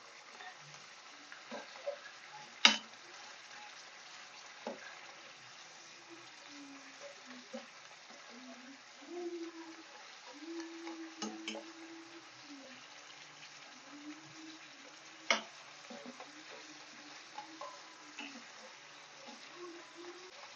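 Pieces of raw banana bhajji frying in hot oil, giving a soft steady bubbling sizzle with a few sharper pops, fairly quiet throughout.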